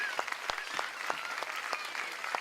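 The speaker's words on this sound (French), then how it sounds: "On peut l'applaudir parce que mine de rien, c'est du boulot." Scattered applause from guests at a dance and fitness club's 30th anniversary party, a few distinct claps standing out over a steady wash of clapping and soft crowd noise.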